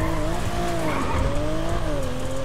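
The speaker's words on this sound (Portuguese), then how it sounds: "Acelera esse carro aí." A car in the game GTA RP revs and accelerates with a sustained rising engine drone and screeching tires, loud and continuous, with no talk over it.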